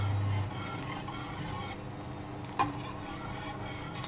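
A boiling agar mixture for berry gelatin is stirred in a pot, giving a soft steady scraping and bubbling texture with a sharp clink from the utensil partway through, and no voices.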